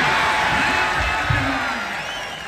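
Crowd at an outdoor red-earth wrestling ground cheering and whooping, a loud, dense wash of many voices that swells briefly and then eases slightly.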